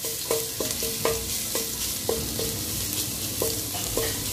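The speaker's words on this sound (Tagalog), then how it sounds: "Yan, magigisa lang natin yung ating bawang at sibuyas." Garlic and onion sautéing in a pan, a steady sizzle broken by repeated scraping stirs of a spatula at a loose, uneven rhythm, close and alone without talk.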